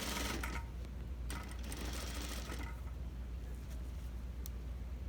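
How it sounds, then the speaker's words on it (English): A sewing machine stitches a suit collar in fast, even bursts of needle clatter, pausing and restarting a few times over a low hum. "We keep sewing."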